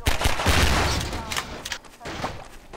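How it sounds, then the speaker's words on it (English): A close, loud volley of gunfire in the PC shooter Half-Life 2: several sharp shots rattle off in quick succession and then thin into scattered reports over a few seconds. "Where are you shooting at?"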